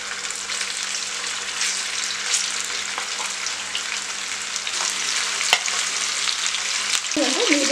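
Fish pieces shallow fry in oil in a pan over a medium flame, giving a loud, steady sizzle with occasional stirring clinks and a brief scrape near the end.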